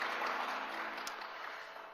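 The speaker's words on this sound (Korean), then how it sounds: "하나님께 영광의 박수 올려드리겠습니다." Congregation applauding during a Sunday church worship service, a steady wash of clapping that fills the whole moment and fades slightly toward the end, with no voices over it.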